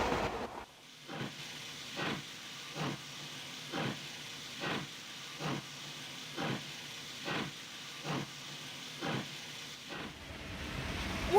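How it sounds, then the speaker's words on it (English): A steam train chuffs past in a regular rhythm of about a dozen sharp hissing puffs, evenly spaced over a soft steady background, fading off at the end. "I dispatch the trains that carry them"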